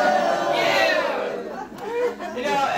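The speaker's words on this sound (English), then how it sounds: "The only time I like being booed at, do it again!" A crowd at a political speech by a comedian, loud mixed jeering and chatter throughout, with a voice rising over it near the end.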